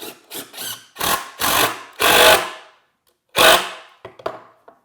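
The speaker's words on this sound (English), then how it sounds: "So just drilling another pilot hole," Bursts of a power drill boring a pilot hole while fitting a jig to an 18BX bandsaw: several short whirring runs of varying length with gaps between, close and fairly loud, ending in a few brief clicks.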